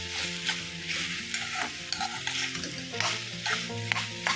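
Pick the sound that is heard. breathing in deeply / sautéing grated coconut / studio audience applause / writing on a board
sautéing grated coconut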